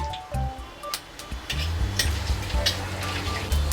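Dried red chilies and whole spices crackle and sizzle in hot oil in a home kitchen while a vegetarian chhanar dalna is cooked, close and moderately loud with spitting pops and a steady frying hiss.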